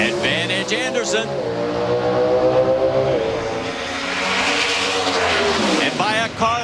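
NHRA drag racing cars at the 2004 U.S. Nationals in Indianapolis roar loudly to the end of a run at about 200 mph, the engine note sweeping down and fading, with a second howl rising near the end.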